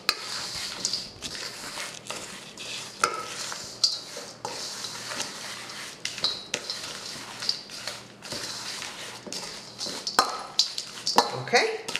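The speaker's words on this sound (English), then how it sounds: "I'm going to give it a quick stir to combine it." A spoon stirs raisins and fresh ground flaxseed in a bowl for no-bake oatmeal protein balls, giving soft scrapes and light clinks against the dish, with a low hum behind and a person talking over it.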